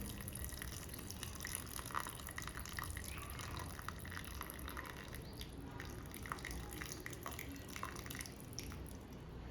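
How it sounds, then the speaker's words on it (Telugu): Cooking water from boiled dal with drumstick is poured off into another bowl, a faint continuous trickle with scattered drips that runs the whole time, fairly quiet and with no voices over it. "ఈ వాటర్ని మొత్తాన్ని కూడా మనం వేరే బౌల్లోకి వేసుకోవాలి"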